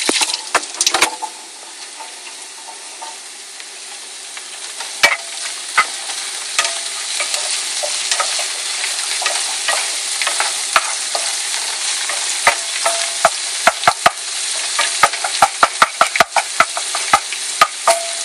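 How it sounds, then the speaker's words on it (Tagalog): Garlic sizzling in a pan for paella, stirred with a wooden spoon: a continuous bright frying hiss broken by sharp wooden scrapes and knocks against the pan, growing busier toward the end. "Medyo kumukulo-kulo na yung bawang. Halu-haluin."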